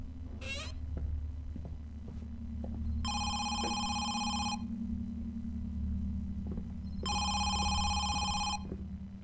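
Telephone ringing inside the horror video game Home Sweet Home, two bursts of a shrill electronic bell trill, each about a second and a half long, over a low droning game ambience with a faint sting near the start.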